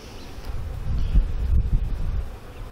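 A low, dense buzzing of many honey bees in a hive swells and wavers close by, with a faint breeze and rustle in the background.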